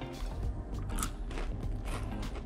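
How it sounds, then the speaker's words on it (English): Crispy fried tonkatsu crunches as it is bitten and chewed up close, giving a series of crackly crunches over a low background hum. "Listen to that crunch."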